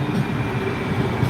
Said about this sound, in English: Look at the streetcar, y'all.